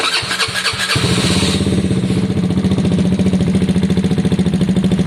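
A Gilera DNA motorcycle engine starts up after sitting unused for about a week: a brief cranking whir for about a second, then the engine catches and settles into a loud, close, rhythmic idle.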